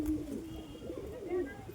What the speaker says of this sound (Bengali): খুবই ছটফটে পায়রা